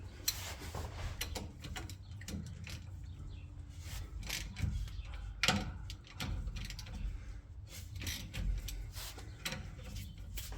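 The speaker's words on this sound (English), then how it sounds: "Then we're just going to loosen up all of our bolts. These are 13 millimeter." Ratchet working loose the 13 mm bolts on the rear differential cover of a Ford Raptor, a close series of quick mechanical clicks and ticks in uneven bursts over low workshop background noise.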